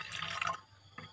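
Liquid potassium fertiliser poured into a plastic bottle for a leaf spray mix, a short close splash of liquid running in that stops abruptly.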